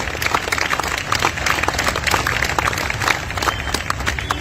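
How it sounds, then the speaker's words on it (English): A crowd at a Goa Christian community gathering claps continuously, a dense, even wash of applause throughout with no clear voices above it. "Let's give them a round of applause, everyone."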